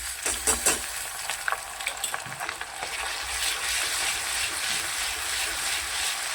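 Ginger garlic paste frying in a pan for a black barbati bean dish, a steady close sizzle with a few stirring clatters at the start, no talking.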